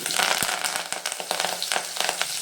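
Mustard seeds, onion and curry leaves hit hot oil with a dense, close crackling sizzle peppered with sharp pops, continuous and loud with no voices.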